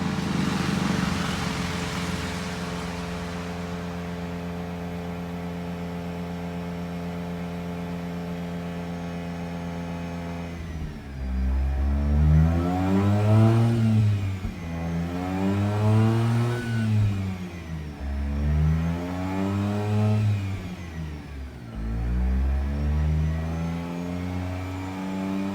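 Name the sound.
Mazda RX-8 engine idling and revving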